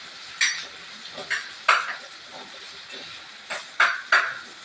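A spoon repeatedly scrapes and clinks against a pan of sliced onions frying in oil for a fish curry, in about seven sharp, evenly spaced strokes over a quiet sizzle.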